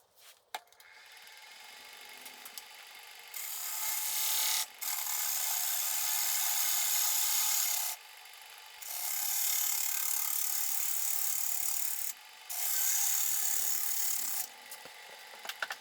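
A black walnut tenon is squared up by hand, with long, steady rasping strokes that come in three sustained passes separated by brief pauses, close and fairly quiet.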